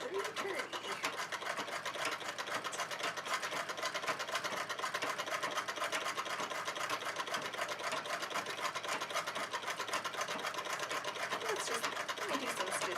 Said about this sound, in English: Let me do some stitching for a couple minutes.